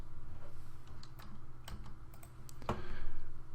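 Code is typed on a computer keyboard in short, light clusters of key clicks over a faint steady hum, with a sharper single click near the end.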